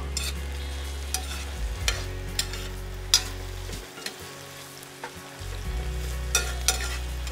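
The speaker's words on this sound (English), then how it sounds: "So our onions and garlic are cooked already." Onions and garlic sautéing in a pan, a steady soft sizzle punctuated by scattered clinks and scrapes of a utensil, close and alone with a low hum underneath.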